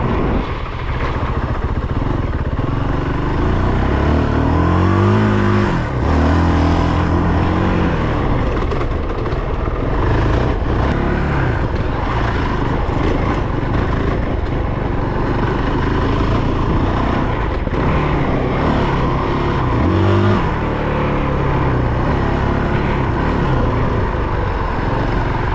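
Honda CRF450RL dirt bike engine running steadily on a dirt trail, a continuous loud motor drone with rising and falling revs that swell twice as the throttle opens, no talking.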